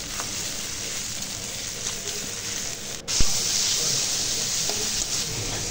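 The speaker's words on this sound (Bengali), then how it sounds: "সব কিছু একসাথে দিয়ে ভালো করে তেলে একটু ভাজা ভাজা করে নেব" Dried fish, sliced onion, garlic, chilli and spices sizzling in hot oil in a home kitchen, a steady crackling fry with one sharp clatter midway, close and alone without talk.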